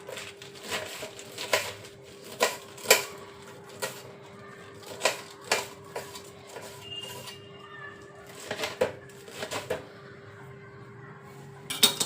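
Mustard greens for sarson ka saag are chopped with a knife on a board in a home kitchen, giving irregular sharp thuds with gaps between them over faint background hum.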